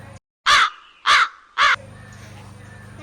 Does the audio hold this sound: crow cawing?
yes